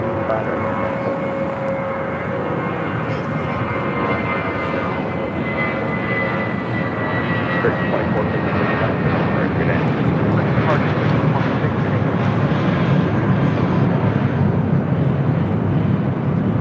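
An airplane takes off from runway 25 right at LAX, its engines a loud, steady roar with a continuous broadband rush that holds throughout, heard close and alone.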